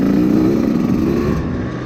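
A Beta 250RR two-stroke dirt bike fitted with a Lectron carburetor runs steadily up close, its engine droning loudly and continuously while being ridden to warm up.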